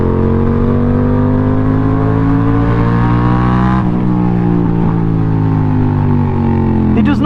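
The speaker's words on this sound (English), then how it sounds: "because the exhaust is just a straight through pipe, it can just get rid of that air and suck more air in" Loud, close engine note from a 2020 Yamaha MT-07 motorcycle fitted with an unbaffled straight-through exhaust, droning steadily with slight pitch shifts and a brief rev blip at the end, with no voices.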